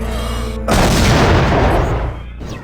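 A grenade explodes in the video game System Shock 2 with a sudden loud, broad boom that rolls on for over a second before fading, with no talk over it.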